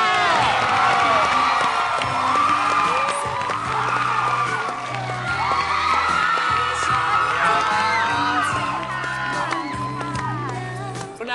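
A studio audience claps, cheers and whoops to welcome a guest on a Thai television show, a sustained lively crowd din over music, with voices shouting along the whole way.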